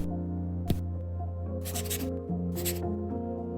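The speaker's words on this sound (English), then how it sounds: "It's the sound of the new Remarkable Paper Pro," Stylus writing on a reMarkable Paper Pro paper tablet: a sharp tap followed by two bursts of scratchy, paper-like strokes, close and quiet over a low steady background hum.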